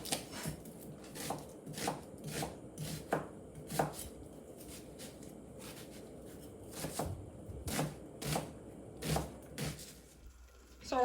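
Vegetables for potato leek soup being chopped on a cutting board, with steady rhythmic knife thuds in quick clusters, close and clear, alone without talk.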